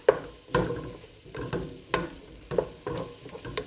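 Ground turkey for chili browns in a pan, a soft steady sizzle broken by regular scraping stirs about every half second, close and fairly quiet with no talking.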